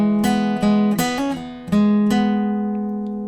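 Electric guitar playing a riff, a chord with hammer-on and pull-off figures: a few clear plucked notes and a bent-sounding change, then a sustained ringing chord that slowly fades, played alone.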